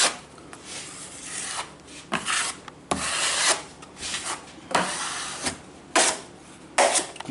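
A drywall knife scrapes excess joint compound off a wall in repeated long, loud rasping strokes, each swipe a harsh burst followed by a brief pause, close up with no talking.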